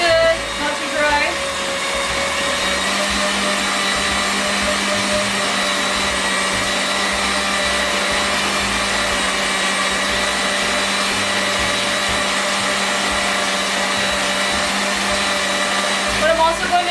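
An electric mixer whipping macaron meringue to firm peaks for peppermint candy cane macarons, a loud steady motor whine with a constant hum that runs throughout without pause.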